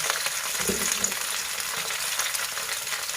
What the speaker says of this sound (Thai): ทอดกระหล่ำปีน้ำปลานะคะ กระหล่ำปีอันนี้ทอดแล้วมันจะกรอบ